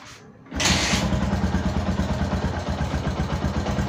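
Yamaha Jupiter MX motorcycle engine kick-started, catching after a brief thump and settling into a steady, close, loud idle with a rough low putter, no talking.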